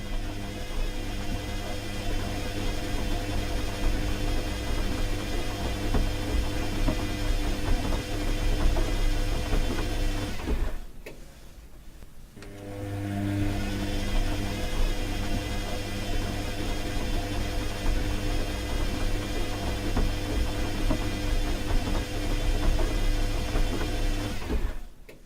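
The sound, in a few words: washing machine running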